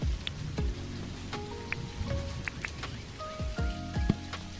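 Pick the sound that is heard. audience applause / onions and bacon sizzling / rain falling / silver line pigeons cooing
rain falling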